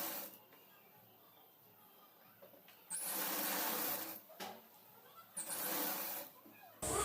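A sewing machine stitches a saree petticoat in bursts, with two loud runs of stitching and a short final burst separated by quieter pauses.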